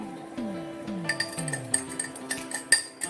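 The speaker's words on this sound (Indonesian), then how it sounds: "aduk semua bahan tersebut menggunakan garpu. Kocok dengan kuat." A fork whisked vigorously through a lipid mixture in a glass container in a lab, giving repeated quick clinks and taps in an uneven rhythm over a steady background hum.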